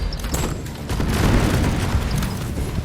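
A grenade goes off in the video game Deep Rock Galactic Rogue Core, producing a loud, sustained rumbling boom that fills the whole moment with dense noise.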